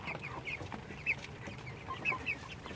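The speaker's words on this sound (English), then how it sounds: "Morning, little chickens." Small Silkie chickens cluck in short, scattered bursts at close range on a morning farmyard, with soft background ambience and no talking.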